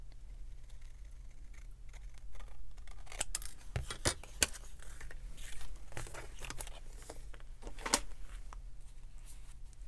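Scissors trimming a paper embellishment for a vintage retro junk journal, a series of crisp, quiet snips in short bursts, close up, with faint paper rustling between cuts and no talking.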